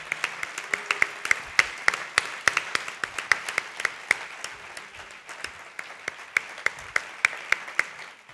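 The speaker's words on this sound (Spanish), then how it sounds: "pido un fuerte aplauso para todos los equipos" An audience at the closing and awards ceremony of the 36th Mar del Plata Film Festival gives sustained, dense applause. A few louder individual claps stand out at an even pace across the crowd.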